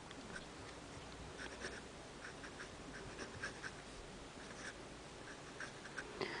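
A Platinum 3776 fountain pen nib scratches and glides softly across paper in short strokes, very faint and close, with no voices.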